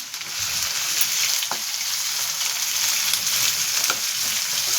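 Finely chopped onion fries over high heat in hot oil with a bay leaf, a continuous loud sizzle with occasional light stirring clicks and no voices.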